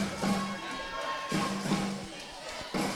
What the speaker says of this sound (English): Crowd's roaring.